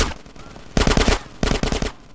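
Automatic gunfire in GTA San Andreas, two loud sustained bursts of rapid shots separated by a short lull, with a shout over the opening moments.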